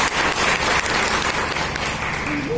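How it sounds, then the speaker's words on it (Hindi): An audience at a foundation day event breaks into loud, continuous applause, a dense wash of clapping held steady for a few seconds without letting up. "तो एक बार वापस जोरदार तालियों से।"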